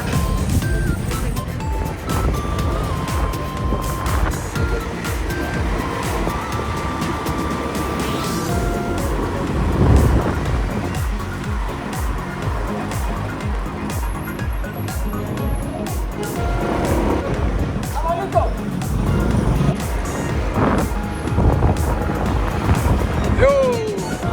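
A motorcycle engine drones steadily while riding through Lorica, Córdoba, Colombia, with wind buffeting the microphone and passing traffic and street noise around it.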